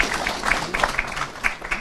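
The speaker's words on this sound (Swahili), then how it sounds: "Tumpigie makofi." Audience applause at a formal installation ceremony in Kenya, a dense scatter of hand claps at moderate distance that swells and fades in a few ragged surges, with no talking over it.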